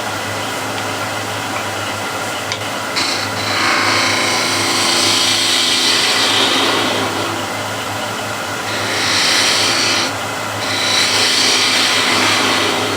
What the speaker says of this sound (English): Now to get this a little undercut, I'm going to use a spindle gouge